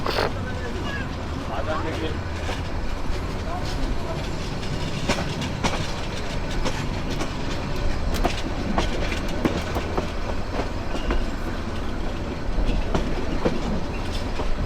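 The Kishoreganj Express, a Bangladeshi intercity train, runs on rails with a loud rumble and repeated clickety-clack wheel knocks. Voices are heard over the train noise.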